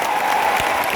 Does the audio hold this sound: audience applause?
yes